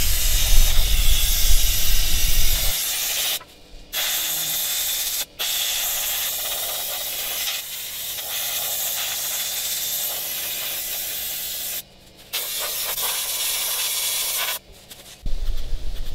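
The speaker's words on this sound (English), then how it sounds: "use aluminum oxide in my little hand blaster and get rid of any loose rust, loose scale that might be there" A small hand-held abrasive blaster sprays aluminum oxide onto rust and scale on a boat trailer, giving a loud, steady hiss in long bursts with a few brief pauses.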